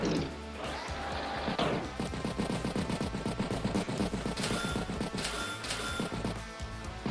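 Neo-Tank attack in Advance Wars, heard as a dense run of rapid mechanical shots and impacts over steady game music, moderately loud.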